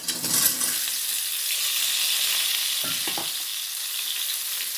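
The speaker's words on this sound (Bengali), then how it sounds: "এবার আমি আলুটাকে একটু লবণ দিয়ে ভেজে নেব।" Small potatoes frying with salt in a few spoonfuls of oil in a wok, a steady close hissing sizzle throughout, with brief stirring scrapes near the start and around three seconds; no talking.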